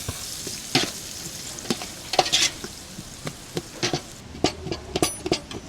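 Onions sautéing in a pan for Jaffna biryani, with a steady sizzle under repeated sharp scrapes and taps of a spoon against the pan, close and alone.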